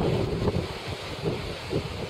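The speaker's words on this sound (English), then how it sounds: "Wind's on shore." Onshore wind buffets the microphone at Rest Bay beach, a steady broadband rush with gusty low rumbles and faint surf underneath, continuous and close throughout with no voices.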